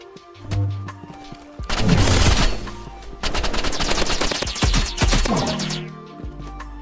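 Rapid bursts of video game gunfire from a Roblox Rivals weapon, with repeated loud shots in two dense volleys separated by a short pause, then trailing off near the end.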